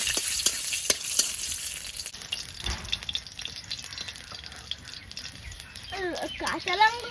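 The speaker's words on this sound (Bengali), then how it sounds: "লঙ্কাগুলো ভাজা হয়েছে তুলে নেব" Green chillies and dried red chillies fry in oil in a kadai, making a crackling sizzle with sharp pops and stirring, while a voice talks over part of it.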